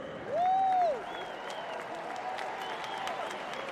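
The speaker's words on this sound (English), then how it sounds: "Give them a big cheer." Applause from an audience at a 2019 Empower session, cheering leaders being congratulated, with a rising whoop or whistle near the start before a steady wash of clapping continues.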